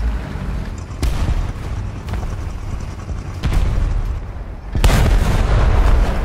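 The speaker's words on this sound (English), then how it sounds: "Oh, do you see that explosion though?" Loud booming blasts in a War Thunder ground battle, with sharp broadband bursts around the second mark and a bigger explosion near the end over continuous rumbling battle noise.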